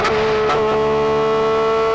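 Porsche 911 GT3 RS engine holding a steady high-pitched rev, a sharp sustained tone with faint shift blips near the start, loud and close with no talk.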